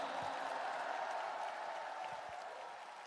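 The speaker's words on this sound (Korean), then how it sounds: "박수 한번 부탁드립니다." Applause from a party convention audience after a presidential nomination acceptance, with a steady, dense wash of clapping that sounds distant and fairly quiet and tapers slightly toward the end.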